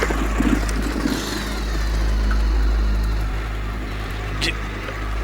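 Motorbike engine running on a night road, a steady low rumble that swells and then sags as if stalling, with brief faint sounds over the top.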